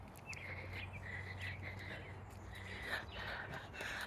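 Faint bird chirps in Leverich Park come in short bursts over a steady background hum and the sound of water, with soft murmuring voices nearby.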